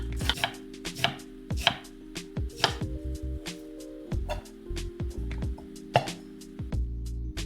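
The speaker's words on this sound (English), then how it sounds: "Shred the cabbage finely." A knife chops steadily on a cutting board, finely shredding cabbage for okonomiyaki, crisp rhythmic strikes close up, with faint music humming underneath.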